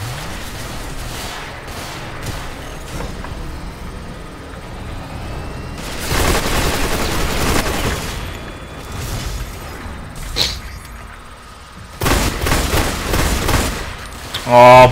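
Video game gunfire in bursts: sparse shots early on, then two loud sustained fusillades of rapid automatic fire separated by quieter stretches, with occasional single shots in between.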